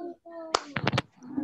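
Two quick hand claps, close and sharp, with a voice before and after.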